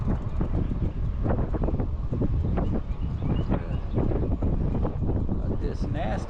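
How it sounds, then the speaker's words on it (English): Headwind buffeting the microphone while cycling with pedal assist on Little Sugar Creek Greenway in Charlotte, North Carolina: a loud, continuous rumbling roar with uneven gusts that lasts throughout. "Got this nasty headwind here."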